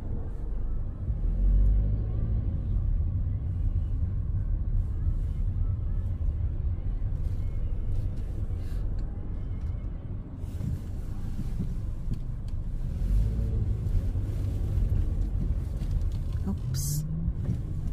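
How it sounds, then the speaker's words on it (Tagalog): Steady low road rumble and engine drone heard from inside a car in slow, congested runabout traffic, with wind noise on the microphone and people talking over it throughout. "Kaya nagkaka-traffic ng kaunti."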